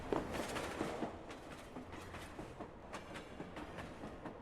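A train runs in the Station 5 video game, a quiet, steady rumble with faint rhythmic clickety-clack of wheels on rails throughout.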